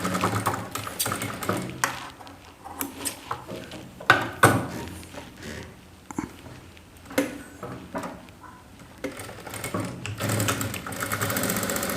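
Sewing machine double-stitching the cup tucks of a saree blouse, running in steady bursts of close, rhythmic needle chatter with short pauses between runs, no talking.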